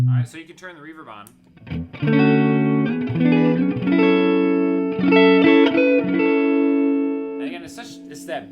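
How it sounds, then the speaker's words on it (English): Electric guitar through a Fender '65 Deluxe Reverb reissue tube amp with its spring reverb switched on, sustained chords ringing with a washy tail, loud and close, and brief talk at the start and end. "it's that beautiful Fender reverb that, you know, some people love it and some people don't care for it as much"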